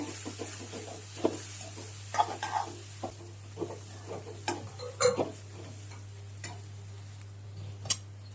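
Chickpea curry with green chutney being stirred in a pan, a spoon giving soft repeated scrapes and clicks over a faint steady sizzle, close and quiet.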